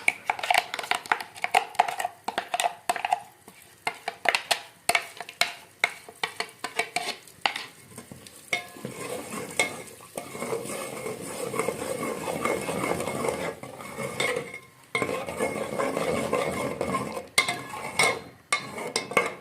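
A spoon scrapes and stirs a thick ground chickpea paste roasting in oil in a pan for Lahori chana. Irregular close clinks and scrapes give way to a steadier frying hiss in the middle, with no speech.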